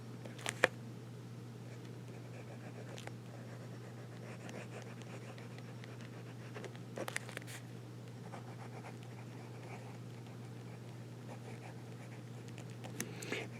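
A broad nib pen scratches across journal paper in a soft, continuous stroke, faint and close, with a few slightly louder strokes over a steady low hum.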